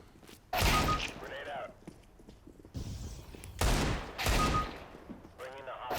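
Gunfire in the video game Counter-Strike: GO, loud sharp bursts of shots in two clusters with quieter gaps between, plus faint game effects; a voice talks over parts of it.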